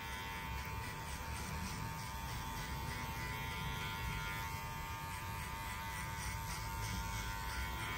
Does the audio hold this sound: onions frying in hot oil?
no